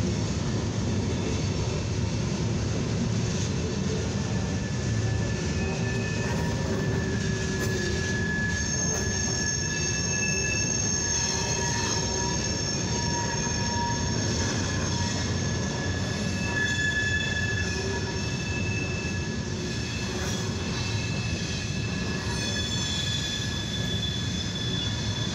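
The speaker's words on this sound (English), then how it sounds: "Proceeding from Defiance down towards the Cincinnati here on the CSX mainline junction here in Deshler" A long CSX coil and mixed freight train rolls steadily past on the mainline at Deshler, wheels squealing in sustained high tones over a constant low rumble, loud and close throughout.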